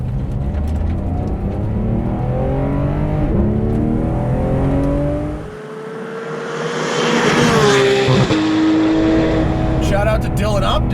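Porsche 991.2 GT3 RS engine accelerating hard with its PDK gearbox in Sport and shifted manually, rising harmonics climbing through gears with a brief drop at an upshift, loud and close, with a voice talking briefly over it.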